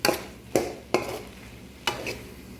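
Mushrooms for a shrimp pasta sizzle faintly in a pan while a utensil stirs them, making four scraping clinks spread over a few seconds above a low frying hiss.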